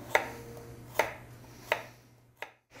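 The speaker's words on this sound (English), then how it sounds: "I'm gonna finish chopping these up, put it all in the pan" A knife chops carrots and sweet potato on a cutting board, with four distinct, evenly spaced sharp knocks over a steady low kitchen hum and no talking.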